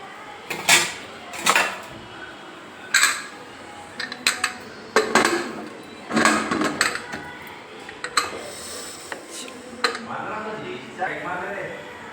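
Metal cookware clanks as a lid goes onto a pot of tomatoes cooking with a little water and coriander, several sharp clinks and knocks spread through the stretch between quieter moments, with someone talking.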